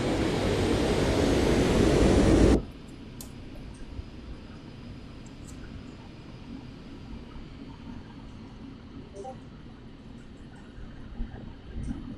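Aircraft engine in the flight simulator DCS World: a loud, dense roar for the first couple of seconds, then cutting to a low, steady hum with faint clicks, no talking.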